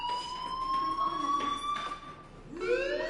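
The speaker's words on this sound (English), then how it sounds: "do you hear that fire alarm? That means you should be outside." A school fire alarm in the game Life is Strange sounds a steady electronic tone that holds, breaks off, then resumes with a rising sweep, loud and alone with no talk.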